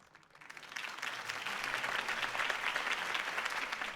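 A crowd at a campaign speech in the Batman Telltale video game breaks into applause, swelling from quiet to a dense, sustained roar of clapping that carries on to the end.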